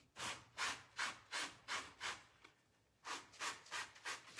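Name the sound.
sanding tissue paper decoupage with a sponge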